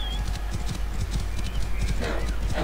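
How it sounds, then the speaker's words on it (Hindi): Horse hooves clip-clopping steadily in Assassin's Creed Origins, a fast close rhythmic gallop over continuous game noise with someone talking. "क्या बात है घोड़ा"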